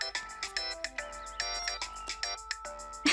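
A phone ringtone plays a bright, repeating electronic melody of short tonal notes in quick succession, close and clear, with no talking over it.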